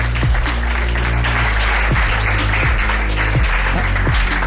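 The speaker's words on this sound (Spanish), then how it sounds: "Os pido un aplauso para él" Audience applause in a Spanish television studio, steady broadband clapping that stays loud throughout, with heavy low rumble and repeated thumping underneath.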